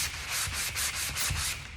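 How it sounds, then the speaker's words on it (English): Rhythmic scratchy rubbing of sandpaper on a sanding block over a painted surface, close up, moving back and forth in steady strokes about every quarter second. "Give it a quick sand in both directions."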